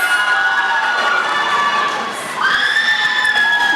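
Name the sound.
cheering and applause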